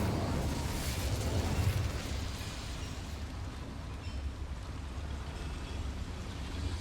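Incendio fire spell cast in the Hogwarts Legacy video game, a whooshing, rumbling burst of flame that swells in the first two seconds, then fades into a lower, sustained roar.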